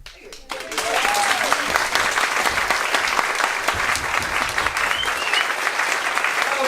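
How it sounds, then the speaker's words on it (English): Sustained applause from a live audience at an end-of-year special show, dense and steady throughout after a brief quiet start, with some voices mixed in. "Applause."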